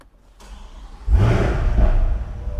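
A 2024 Chevrolet Corvette Stingray Coupe 2LT, mid-engine, starts up: a brief starter whir, then the engine catches with a loud low rumble that settles into a steady idle, close and with no talk.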